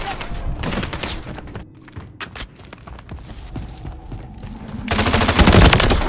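Bursts of automatic gunfire from the Call of Duty MW3 video game on the Scrapyard map, rapid rattling volleys at the start and a louder sustained burst near the end, with scattered single shots and battle noise between.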